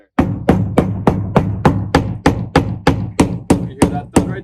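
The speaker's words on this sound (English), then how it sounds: "You hear that thud right there? That means there's a stud there." About thirteen steady, rhythmic knocks on a siding wall directly over a stud, each a loud, close, solid thud with a short decay.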